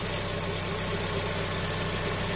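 A Honda CR-V engine at idle hums steadily with a low, even drone and constant vibration, close and unchanging, while a VTEC pressure switch fault is being diagnosed.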